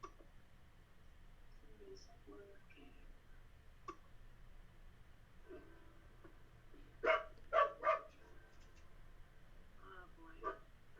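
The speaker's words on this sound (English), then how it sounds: "Whose dog?" A small dog lets out three quick, faint barks in a short burst, followed later by one more yip, heard distantly against a quiet room background.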